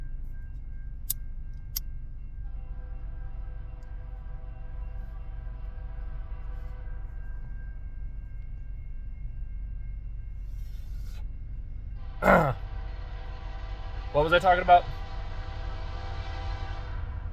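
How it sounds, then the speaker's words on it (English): A low rumble from a passing train runs throughout, then a loud, near horn blast sounds and is followed by a longer wavering horn call, with someone briefly speaking early on. "this train's loud as hell"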